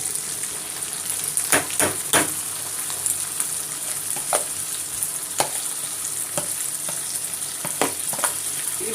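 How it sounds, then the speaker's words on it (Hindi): Chilli powder, turmeric, salt and garam masala sizzle as they fry in curd, with a steady hiss throughout and several sharp scraping stirs of a spoon against the pan. "अब इसको हम मिक्स करके दही में अच्छी तरह से इसको भून लें।"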